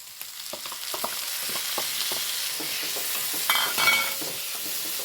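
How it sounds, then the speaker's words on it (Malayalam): Tomatoes stirred and fried with sautéed onions in a pan for a bitter gourd fry: a steady close sizzle with repeated scraping stir strokes, swelling briefly louder near the end, with no talking. "ഉള്ളി വഴന്ന് ഇനി ഞാൻ തക്കാളി ഇട്ട് കൊടുക്കണ്ടേ"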